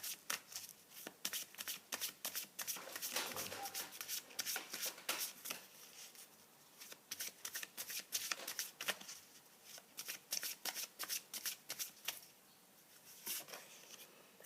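Oracle cards from a goddess-themed deck are shuffled steadily for many seconds, a close, brisk run of riffling flicks and soft slaps with short pauses between bursts.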